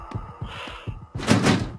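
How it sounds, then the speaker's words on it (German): A stuck door in an indie horror video game rattles with a series of quick repeated thumping jolts, followed by a louder, noisier scraping burst, close and alone. "Diese Tür klemmt!"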